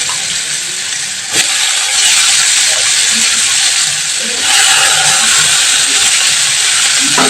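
Chopped ginger, onion and garlic sizzle loudly in a hot pan for an egg dish, a constant bright hiss with a few clattering stirs and scrapes partway through.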